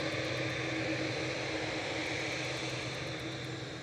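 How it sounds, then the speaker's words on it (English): A Boeing 787-8 departing Manchester Airport, a broad, steady jet engine roar with a faint whine, sustained and even from a distance with no voices. "Departing to Mahon here, 787-8 with flight 2608."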